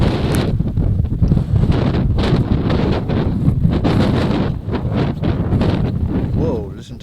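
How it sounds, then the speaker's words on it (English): Strong wind buffets the microphone at Garsdale railway station on the Settle to Carlisle line, a loud, continuous roar with gusty surges throughout and no other clear sounds. "Whoa, listen to that wind."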